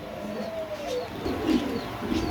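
Fancy pigeons coo softly in a loft where pigeons are sold, low rolling calls repeating over a faint background hum.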